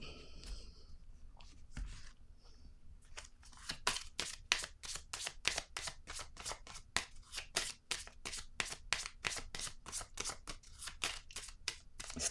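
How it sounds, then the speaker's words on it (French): Tarot cards are laid out on a table, giving a rapid run of crisp paper snaps and slaps in a brisk, steady rhythm after a few softer shuffling touches, close up and fairly quiet. "Je vais déposer encore une carte ici."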